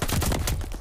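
Gunfire in the Call of Duty Vanguard video game comes as a rapid, dense burst of loud, close shots packed into under a second.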